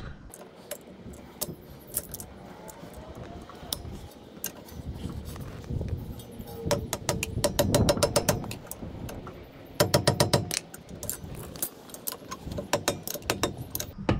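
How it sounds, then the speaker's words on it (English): A bolt on a brake caliper of a 2019 Toyota Sienna is tightened while its spinning pin is held with a vice grip. Quiet metallic fumbling builds into rapid bursts of ratchet-like clicking near the end. "I'm going to be using a vice grip to hold it and tighten up the bolt."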